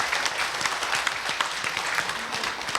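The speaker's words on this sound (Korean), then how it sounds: "우리 네 분 패널께 뜨거운 박수 부탁드리겠습니다" A crowd applauds steadily at a public debate forum, dense clapping filling the whole moment with no talking.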